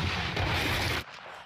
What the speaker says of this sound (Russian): Вновь слышны взрывы.